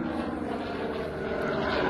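A Chance Vought F4U Corsair propeller warplane flies at the Air Legend 2022 airshow, its engine a steady, loud, rough droning hum with no voices over it.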